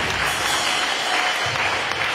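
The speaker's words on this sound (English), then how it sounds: "Clap for Jesus Christ." Church congregation applauding during a prophetic worship service, a steady dense wash of clapping that runs unbroken and fairly loud throughout.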